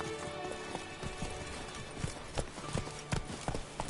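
The horse Roach gallops in The Witcher 3 video game, with rhythmic hoof clip-clops growing louder and more distinct over a soft ambient bed.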